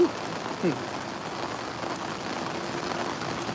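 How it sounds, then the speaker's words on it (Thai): Heavy rain pours steadily outdoors as a storm approaches, a dense continuous hiss of drops on surfaces with one brief soft thud near the start. "ฝนตกแรงมากครับ"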